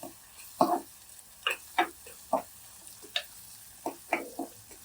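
Onions and garlic sautéing in a pan for a spicy cluster bean curry, with a series of sharp spatula taps and scrapes at uneven intervals over a faint, low sizzle, close and without talk.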